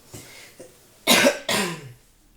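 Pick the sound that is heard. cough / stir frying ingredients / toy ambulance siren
cough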